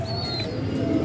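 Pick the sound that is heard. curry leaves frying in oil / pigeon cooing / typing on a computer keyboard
pigeon cooing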